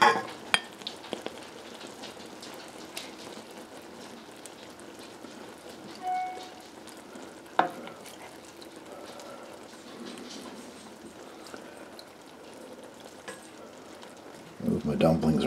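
A Canadian wild blueberry grunt bubbling in a pan with the heat just shut off, a soft continuous sizzle and crackle with occasional small pops and utensil clinks, close and quiet.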